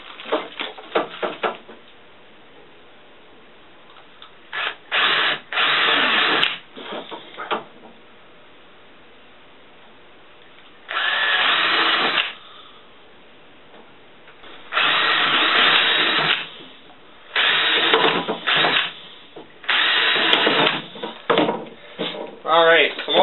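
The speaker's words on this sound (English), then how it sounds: "we're going to go ahead and drill some holes." A power drill bores a series of holes one inch apart through a marked wooden board, loud whirring bursts of varying length separated by pauses, with occasional clunks and brief stretches of quieter handling.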